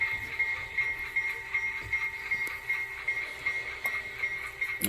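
Model train locomotive pulling its coupled cars out on a layout, a quiet, steady whine with soft rhythmic clicks of wheels over track joints, heard alone.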